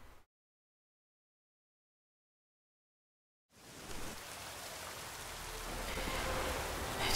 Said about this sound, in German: Kann es nicht aufhören zu regnen.